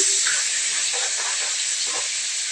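Fish frying in a pan in a home kitchen, a loud steady hissing sizzle that stays constant, with faint background voices underneath.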